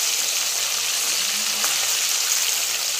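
Pieces of korameenu fish fry in hot oil, a steady, dense sizzle with a constant crackling hiss that stays even and close throughout, no talking.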